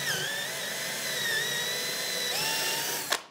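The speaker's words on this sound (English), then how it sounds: "I'm going to use an electric drill with a 1/4 inch bit in here" An electric drill with a 1/4 inch bit bores into wood at a woodworking bench. Its steady, high motor whine runs for about three seconds, shifts pitch briefly partway through, then stops with a sharp ending.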